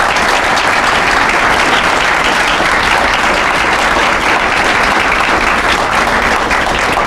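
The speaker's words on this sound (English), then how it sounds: "let's give the Lieutenant Governor a huge round of applause" Loud, sustained applause from an indoor crowd for the Lieutenant Governor at a headquarters groundbreaking event, steady clapping filling the whole stretch with no break.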